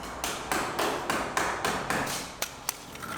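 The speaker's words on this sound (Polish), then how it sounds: "Na początku szpachelką i młotkiem, ze względu na naprawdę delikatną strukturę cegły." Sharp metallic taps strike in a steady rhythm, about ten close hammer blows on a spatula chipping delicate brick, each followed by a brief gritty scrape.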